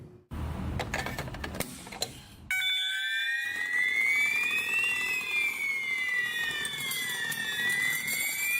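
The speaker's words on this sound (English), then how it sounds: "AWD109 alarm." An AWD109 alarm sounds loud and alone, a rising-and-falling electronic warble sweeping up and down steadily, preceded by a few seconds of clattering noise.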